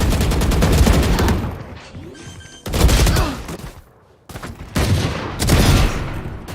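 Dense bursts of gunfire from an esports shooter match come in repeated volleys with brief gaps, loud and close, with faint background noise between.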